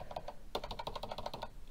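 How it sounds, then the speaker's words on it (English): An AlphaSmart 3000 keyboard being typed on gives close, quiet, hollow and chunky key clacks, first a few scattered taps and then a quick rapid run of keystrokes, with no talking. "hollow, chunky key sound."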